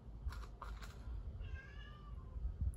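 A pitch-black cat lets out a drawn-out, wavering meow in the middle, after a few soft tapping clicks. The sound is fairly faint, with quiet room noise around it.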